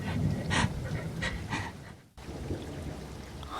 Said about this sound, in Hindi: दोनों बुरी तरह हाँफ रहे थे।